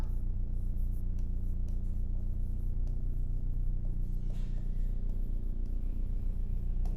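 Pen writing a formal letter on paper, a steady close scratching and sliding stroke sound continuing without pause over a faint background hum.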